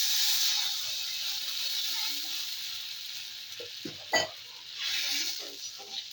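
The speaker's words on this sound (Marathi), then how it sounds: "आणि ग्लासभर आपण पाणी ओतायचं" Onions fry in a pan with turmeric, giving a steady loud hiss and sizzle that softens and bubbles as a glass of water is poured in, followed by faint stirring clinks.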